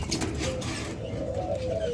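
Soft, low cooing from a caged pet bird at a bird seller's, a few brief murmuring calls close by.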